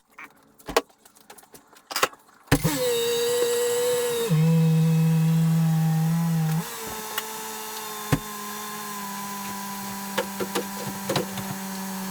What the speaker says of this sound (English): I gotta back this up a little bit, get the ramps down, put it up on the ramps